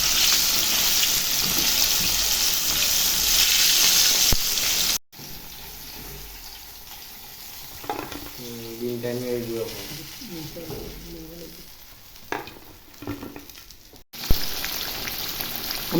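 Chicken pieces frying in hot oil for fried chicken, a steady crackling sizzle that drops to a quieter bubbling while a voice talks, then returns loud as more pieces go in.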